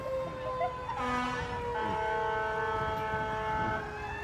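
A fire truck siren wails during a parade, a steady rising and falling tone with harmonic overtones over street noise and a brief honk, fairly distant.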